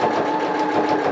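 A sewing machine stitches a vintage-style apron, running steadily and close with an even mechanical whir for the whole short stretch, no voices.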